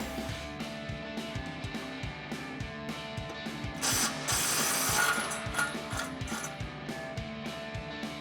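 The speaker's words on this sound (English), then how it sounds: "we've got our 21mm socket on our impact. We'll remove the mounting bolts for the caliper" An impact wrench with a 21mm socket removes the brake caliper mounting bolts on a Ford F-150 front end, giving a rapid rattling hammer with a louder burst midway, close and without talk.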